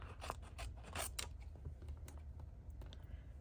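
Scissors snip around a paper embellishment in a quiet craft room, a series of close, crisp cutting clicks in an uneven rhythm, loudest in the first second and then lighter, with no talking.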